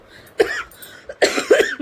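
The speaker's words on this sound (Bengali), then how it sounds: "কাশিটা এখনো ঠিক হচ্ছে না" Several harsh coughs from one person indoors, a single cough followed by a pause and then a quick run of two or three close, loud coughs.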